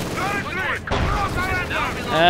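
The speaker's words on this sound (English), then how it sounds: "there we go, snipers opening up" Sniper rifle fire and battle noise in the Company of Heroes 2 real-time strategy game, sharp reports over rumbling explosions and whistling projectiles, with a commentator talking throughout.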